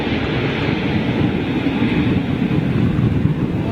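Airliner starting its engines during pushback at Heathrow in storm winds, heard as a continuous loud roar mixed with gusty wind buffeting the microphone, no talk.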